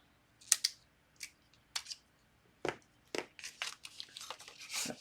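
Scissors snipping through tape while making a pull card, a series of short, quiet crisp cuts and crinkles in an otherwise quiet room.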